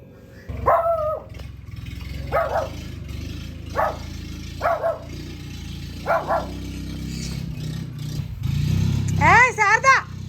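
A small dog gives a string of short, high yips spaced about a second apart, then a quicker burst of whiny barks near the end, over low background noise.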